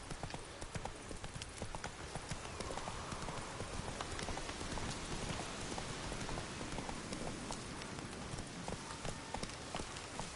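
Horse hooves clip-clop steadily through rain in The Witcher 3, a continuous patter of hoofbeats over a dense wash of rainfall that stays loud throughout.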